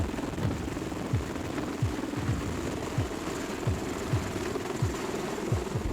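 A military helicopter aboard an amphibious assault ship thrums steadily nearby, its rotor blades chopping in a regular, rhythmic beat over a constant engine drone.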